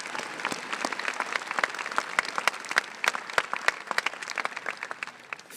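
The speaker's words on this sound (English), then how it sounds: "Let's give them a round of applause." A high school graduation crowd applauds in dense, steady clapping that fills the hall for several seconds, loud and close, with no talk over it.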